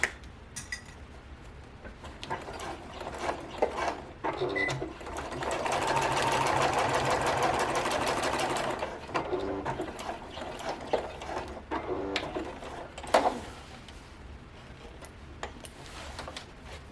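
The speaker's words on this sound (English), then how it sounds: "Flatten this out and stitch across at 1/2 inch." A sewing machine stitches a seam across a handbag liner at half an inch, running in short bursts with a longer steady run in the middle, close and moderately loud with small mechanical ticks between.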